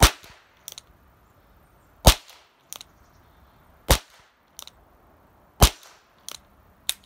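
Single sharp .22LR shots from a Smith and Wesson Victory target pistol at an outdoor range, about seven cracks fired at irregular intervals of roughly one second, loud and close with brief decays and quiet between.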